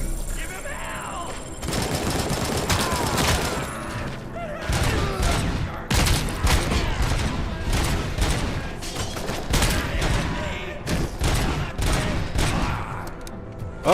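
Rapid bursts of video game gunfire crackle loudly and repeatedly, dense volleys broken by brief pauses, with a player's voice talking over the shooting.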